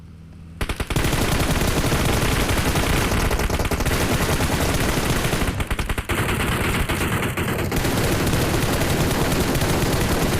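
Sustained automatic gunfire in the PUBG Mobile battle royale game, a loud dense burst that runs almost without pause for about ten seconds after a quiet opening.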